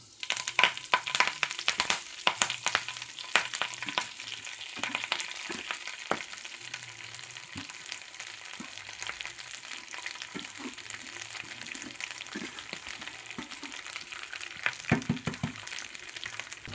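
Dried moringa leaves dry-roasting in a pan for a spicy powder, with a steady crackling hiss broken by frequent sharp scraping and stirring clicks throughout, close and moderately loud, no talk.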